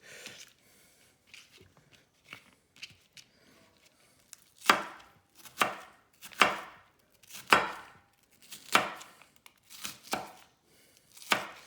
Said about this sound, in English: And we gotta mince these onions up